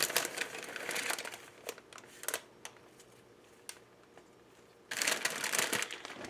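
A crinkly plastic salad package rustles in bursts as a hand reaches in and pulls out a handful of arugula, with a louder crinkling burst at the end and quieter pauses between.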